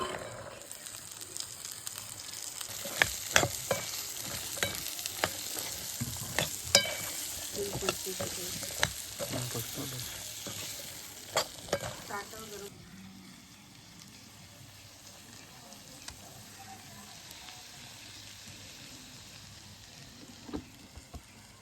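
Chopped drumstick vegetable hits a pan and is stir-fried, with a busy sizzle and sharp scraping strokes close up for roughly the first half, settling into a quieter, softer frying hiss afterward.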